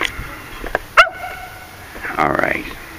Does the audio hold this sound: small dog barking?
yes